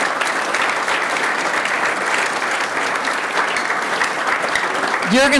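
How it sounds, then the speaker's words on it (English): A banquet audience at a college volleyball championship dinner breaks into loud, sustained applause that fills the room steadily, with a brief voice rising at the very end. "let's give a round of applause to all the people behind the scenes that did all the work."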